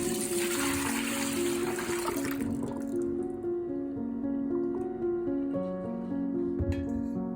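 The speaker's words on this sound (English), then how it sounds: "Now I'm just going to rinse that off using clean clear water and a clean rag" Clean water splashing and wiping over a ceramic piece with a rag, a dense wet hiss for the first two and a half seconds before it stops, with steady tonal music running underneath throughout.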